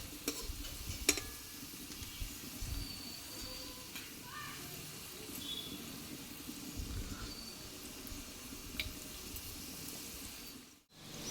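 Snacks frying in a pan of oil, a steady low sizzle running throughout with occasional faint clinks and ticks, moderately quiet and close, then a brief dropout near the end.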